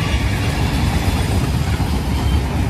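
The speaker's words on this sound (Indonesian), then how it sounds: "Kereta lewat." A train passes close by with a loud, steady rumbling roar that fills the whole clip, dense and continuous with no breaks.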